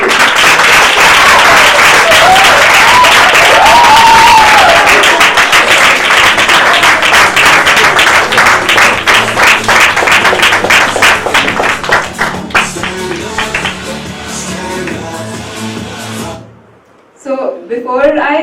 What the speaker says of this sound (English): Can we have one more round of applause for us?